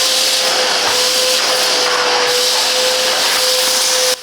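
Silvercrest SWFS 650 A1 water filtration vacuum cleaner running, a loud steady motor roar with a constant tonal hum and airy hiss that cuts off abruptly near the end.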